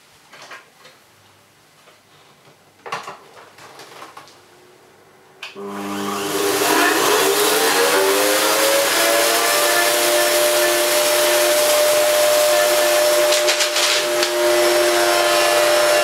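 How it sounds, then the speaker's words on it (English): A Hoover Purepower 2100 watt upright vacuum cleaner switches on after a few quiet clicks and handling sounds, its motor rising to a loud, steady whine and roar that continues close by as it passes over short carpet and hard floor. "I'm going to turn the machine on, pass it slowly backwards and forwards right through the middle here"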